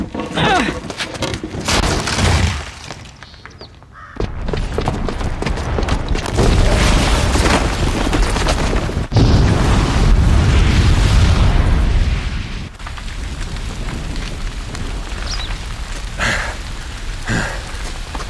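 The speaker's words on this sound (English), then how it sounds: "the booby trap on the bomb downstairs is gonna get set off" A booby-trapped bomb explodes in Horizon Zero Dawn, heavy booming blasts and rumbling debris rolling on for many seconds, loud and close, with a dull roaring wash between the bursts.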